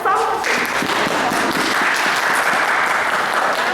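Applause from the crowd at a social assistance assembly, a dense, steady wash of many hands clapping that swells in after a brief start and holds loud and even throughout, with faint voices mixed in.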